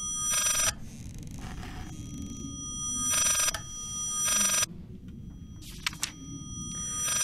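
A loud telephone ring sounds in the Layers of Fear horror video game, buzzing in long, bright, metallic bursts with gaps between them, over a dark rumbling ambience. A few short higher chirps come near the end.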